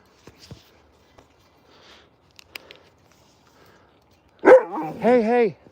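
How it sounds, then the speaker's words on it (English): A large wolf dog barks and howls in a loud, harmonic burst near the end, after several seconds of faint scattered noises and quiet moments close by. "Why are you barking?"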